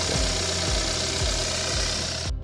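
Turbocharged Hyundai LF Sonata engine idling with a steady low rumble and faint periodic knocks about every half second, loud and close, cutting off abruptly at the end.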